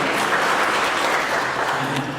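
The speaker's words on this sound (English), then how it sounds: "So congratulations and clap to everybody that did this." A church congregation claps during a Black History Month service at an Anglican parish church, a loud, dense, steady round of applause with no voices over it.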